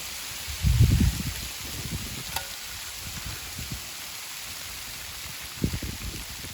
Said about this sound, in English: This hail's coming down, Charlie Brown.